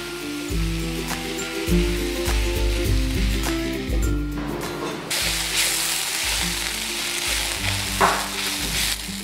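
Ivy gourd (dondakaya) fries over low-medium flame in a pan, a steady sizzle running throughout with repeated scraping stirs and a brighter hiss in the second half; no talking.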